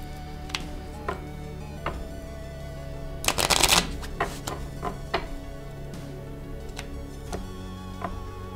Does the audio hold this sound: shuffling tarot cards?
yes